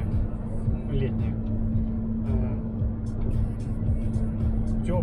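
Steady low road rumble and engine drone from inside a car cruising slowly along a road on a warm summer day, continuous throughout with faint murmuring voices beneath.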